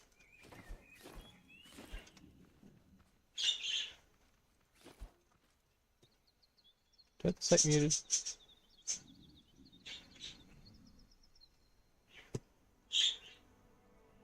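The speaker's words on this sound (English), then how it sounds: "I can hear my bird." A pet bird chirps indoors in a few short, bright bursts spread across a quiet room, faint between calls, with someone speaking briefly and some soft thumps and footsteps nearby.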